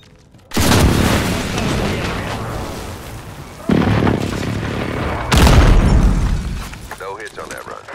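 Heavy booming explosions from a called-in air strike in a military video game, several loud bursts rolling in one after another with long rumbling tails, and voices talking over the blasts.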